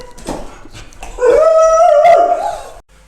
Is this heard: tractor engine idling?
no